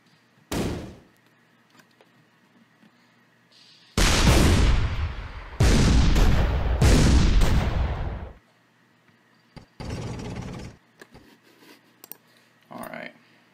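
Tank shots in the artillery game ShellShock Live come as a series of loud, sharp blasts with decaying tails. A cluster of three or four arrives mid-way, with a few softer pops before and after.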